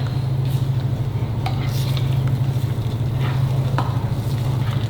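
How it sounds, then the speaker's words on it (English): Feta cheese, eight ounces of it, stirred into a cherry tomato pasta sauce in a pot, with a steady low simmer and bubbling under scraping spoon strokes and occasional light clinks throughout. "we are just going to dump that in and give it a good stir"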